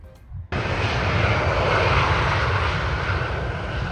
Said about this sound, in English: I see your flight coming in